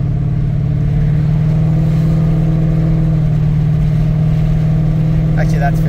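Car with a 6R80 automatic transmission shifts up through fifth and sixth gear, a steady loud mid-low engine drone holding throughout with little change in pitch, a voice talking over it.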